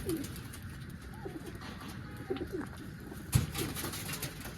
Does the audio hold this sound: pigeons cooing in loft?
yes